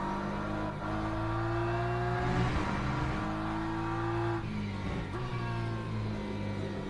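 A BMW M4 race car in the Le Mans Ultimate racing sim holds a loud, steady engine drone with rising revs between gearshifts and a brief tire squeal midway, with no voices.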